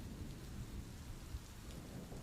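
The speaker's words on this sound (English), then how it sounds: "could hear the rain coming down harder than ever" Heavy rain roars steadily with a low rumbling undertone, a constant dense wash of sound and no voices.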